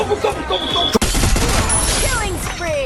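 Rapid gunfire bursts in the Free Fire battle royale game, a loud dense volley of shots with a sharp crack near the start, continuing as sustained firing.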